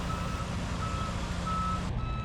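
A truck sounds a steady, repeating reversing beep, clear and fairly close, while it moves a shipping container into position for unloading, over a low engine rumble.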